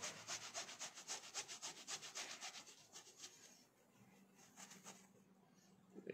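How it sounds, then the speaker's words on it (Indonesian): A DNA car air filter is scrubbed by hand in steady, rhythmic rubbing strokes, close and soft, quickening at first, then easing into gentler, slower scrubbing. "Kita gosok je sampai habis."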